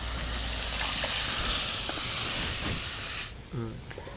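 Water poured onto fried spice paste of ground cumin, dried red chilli, turmeric and salt in a hot pan bursts into a loud, hissing sizzle that holds, then drops off abruptly into quieter bubbling with a brief clatter.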